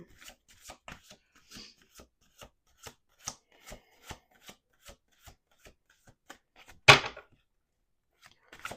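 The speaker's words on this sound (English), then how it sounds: "Let's do 2 more shuffles." Tarot cards are riffled and tapped in a steady series of soft clicks, with one louder shuffle burst near the end, quiet and close.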